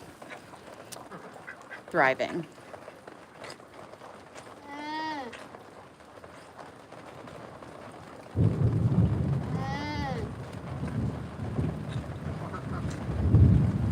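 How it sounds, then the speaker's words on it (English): Ducks quack out on a farm as they play in rain puddles during a thunderstorm, with a few harmonic calls standing out over steady rain and rumbling, while people talk nearby. "It's the best day ever for the ducks."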